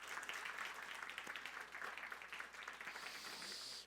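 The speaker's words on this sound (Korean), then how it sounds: "우리 감사와 격려의 박수 한번 드릴까요" A church congregation, children included, gives sustained applause of thanks and encouragement, a dense even clatter of many hands throughout.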